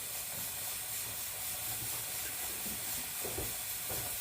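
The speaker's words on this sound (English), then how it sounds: "So the pressure canner's just starting to come up. He's jiggling" A pressure canner venting steam as it comes up to pressure, a continuous loud hiss with a faint rattling flutter of the jiggling weight near the end, and no one talking.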